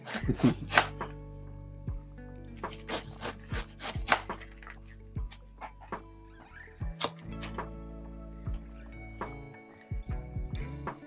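Knife chopping on a cutting board, a run of sharp woody taps in uneven bursts with some scraping between, close and moderately quiet, no talk.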